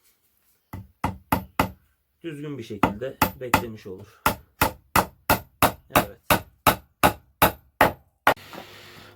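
A long run of sharp, regular hammer knocks driving nails into wood while building a kitchen shelf, close and loud, with a brief stretch of talking partway through.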